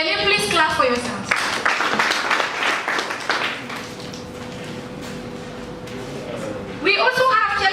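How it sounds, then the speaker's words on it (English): A graduation audience applauds loudly at a cohort ceremony in Gambia, a broad wash of clapping that swells at the start, eases to a steady patter in the middle and rises again near the end. "Can you please clap for yourselves?"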